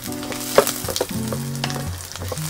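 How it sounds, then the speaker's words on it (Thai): Garlic frying in a hot pan for a Thai stir-fried beef with shiitake mushrooms, sizzling steadily, close and moderately loud, with a few clicks of a utensil and a humming tone underneath. "เริ่มต้นเราก็เจียวกระเทียมกันเช่นเคย"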